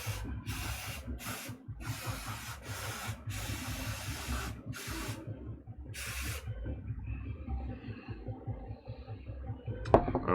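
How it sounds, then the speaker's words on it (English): Mold release sprayed from an aerosol can in a bedroom workspace while resin casting parts: several close hissing bursts of varying length, with short pauses between them, over a low background hum. "that white stuff, that's the mold release. So I'm spraying it too close to the heart."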